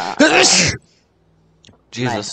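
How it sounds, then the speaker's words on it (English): One sharp, close sneeze bursts out at the start, followed by a short silence and then a person speaking. "Oh, so now you can hear my sneezes"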